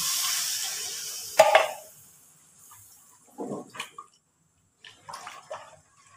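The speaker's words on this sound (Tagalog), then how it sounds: "Lagyan natin ng tubig guys." Water pours briefly into a pan with a splashing rush that fades, followed by a few soft clinks and bubbling noises.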